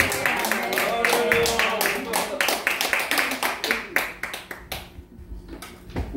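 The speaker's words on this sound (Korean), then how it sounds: "박수로 환영해 주세요." A church congregation claps to welcome a guest pastor to the pulpit, individual hand claps close and fairly loud over murmuring voices, thinning out toward the end.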